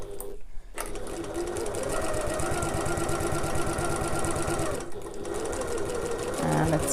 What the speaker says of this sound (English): And as I go over the tabs, I'm going to back stitch over